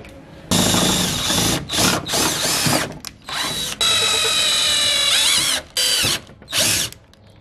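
A power drill boring holes in a car's front splitter, running in loud bursts of several seconds with short pauses and pitch changes as the bit spins up and bites, close up with no talk.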